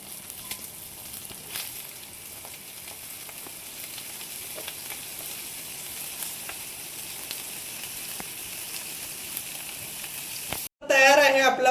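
Mackerel (bangda) fish frying in a pan: steady, close crackling sizzle of oil that runs unbroken, ending with a brief dropout and a short burst of other sound.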